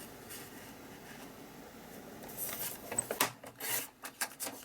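Paper sheet for a 5x8 lapbook journal being cut down, a quiet rasping, rubbing cut that grows into several close, uneven snips and slides toward the end, with no talking.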